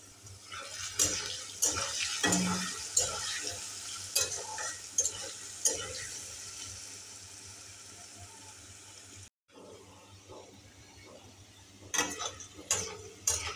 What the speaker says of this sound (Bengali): নুন হলুদ দিয়ে আলু ভেজে নেব।